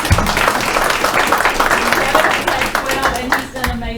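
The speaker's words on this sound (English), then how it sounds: "if we could give him a round of applause" A school board meeting audience applauds, steady loud clapping from a crowd filling the room.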